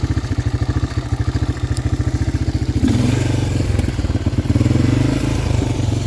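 A 1985 Honda Big Red 250ES three-wheeler engine chugs at a steady idle, then a thump as it shifts into reverse and the engine note rises and roughens, close and loud.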